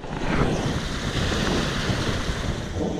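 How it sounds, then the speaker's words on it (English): Wind blows hard outdoors in wetlands, a broad continuous rush buffeting the microphone at steady strength for a few seconds, with no voices. "I hope the wind isn't too crazy"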